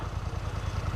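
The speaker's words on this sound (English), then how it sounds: "Big Red's been idling for long enough now" Big Red vehicle engine idling, a close, steady low chugging with an even pulsing rhythm over a short stretch and no voices.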